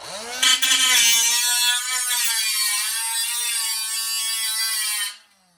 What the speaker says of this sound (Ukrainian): тепер пробіжимося з болгаркою